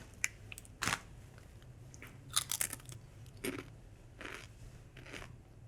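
Crunching and chewing of coffee-flavored Doritos tortilla chips, several sharp crisp bites spaced out over a quiet background, close to the mic with no talking.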